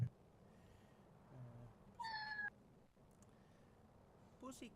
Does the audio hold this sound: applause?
no